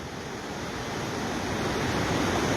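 The flooded Banas river rushes in a steady, dense roar of water, loud and continuous with no voices over it.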